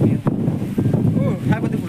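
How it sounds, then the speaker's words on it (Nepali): Wind at Vaishali blows in a brief, steady rush across the microphone, fairly soft, with a person speaking over it. "हावा दामी चल्दैछ"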